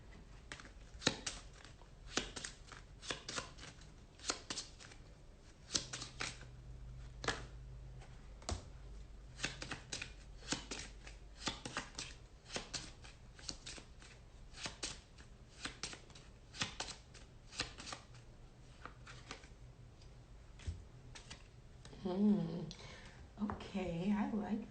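Tarot cards being shuffled in repeated crisp riffles and flutters, fairly close, with a voice speaking briefly near the end.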